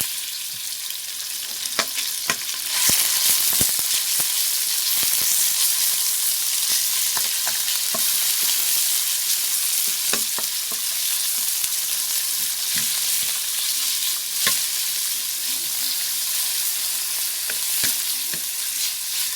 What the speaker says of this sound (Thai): แล้วก็ผัดเลยค่ะ ใส่กระเทียมลงไปใส่หมูสับลงไปเลย